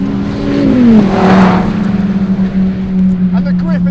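A Dodge Viper ACR engine, which peaks just over 6,000 RPM, gives a loud, close, steady drone whose pitch slides briefly early on before holding level.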